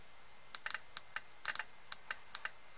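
A relay on a solar tracker controller board clicks sharply as 5 volts is applied, producing about a dozen crisp, close clicks in an irregular quick sequence against a quiet background.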